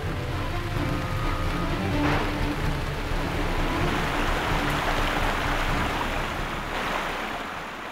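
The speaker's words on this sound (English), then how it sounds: "Hedgehogs are tough, but they can't stand heavy rain" Heavy summer rain pours down in a forest, a dense, steady roar of water that holds at the same loud level for the whole stretch with no voices.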